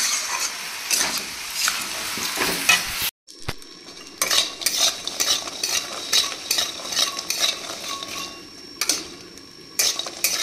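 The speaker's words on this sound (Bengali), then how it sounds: "এখানে বড়িগুলো ভেজে তুলে নেবো" Bori lentil dumplings frying in a pan, bursts of sizzling with frequent spatula scrapes and metal clinks, close up, a brief silent gap early on, no talk.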